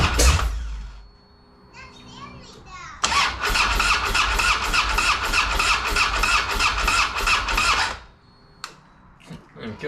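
A Harley-Davidson Street Glide motorcycle with a hard-starting fault cranks for a long stretch with a rapid, loud rhythmic starter chug close by, but the engine never catches, and faint voices come before and after.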